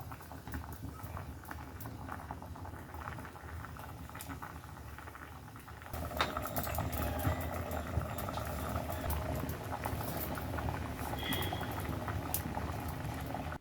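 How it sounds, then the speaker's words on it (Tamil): Fish curry bubbling in a pot over a wood fire, a steady close boil with dense popping and sputtering that grows louder and busier partway through, with no talking. "இப்போ பார்த்தீங்கன்னா குழம்பு கொதிக்க ஆரம்பிச்சிருக்கு."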